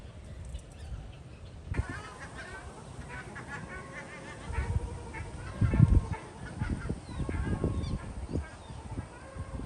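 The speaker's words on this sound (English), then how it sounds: "Look at this huge pond with so many water birds." Geese and other water birds honk around a large pond in a bird garden, repeated nasal calls rising and falling over several seconds, some close and loud, others farther off.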